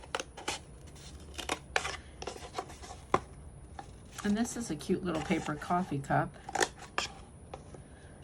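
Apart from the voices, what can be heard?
cutting slits in a paper coffee cup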